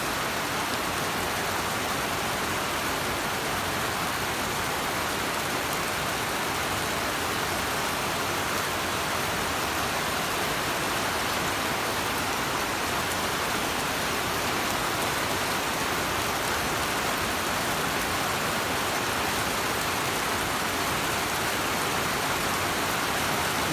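Rain falls steadily in Dauis, Bohol, a dense, even hiss of drops hitting surfaces that stays constant and fairly loud for the whole stretch, with no voices.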